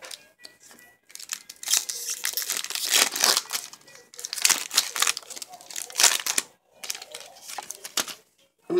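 Magic: The Gathering booster pack wrappers being opened by hand, with dense, loud, close crinkling and crumpling in long bursts separated by brief pauses, and a voice briefly talking.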